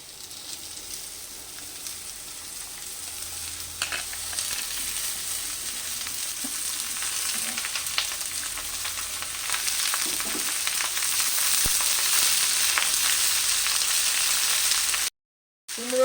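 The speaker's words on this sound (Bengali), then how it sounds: "আলুটা ভাজা হয়ে গেছে তিন চার মিনিট মতন আমি ভাজলাম দিয়ে এবার কুমড়োটাকে আমি দিয়ে দিচ্ছি" Potato and ash gourd fry in a pan for a vegetarian coconut dish, making a steady, close sizzle that grows slightly louder and fuller throughout, with faint stirring clicks and no voices.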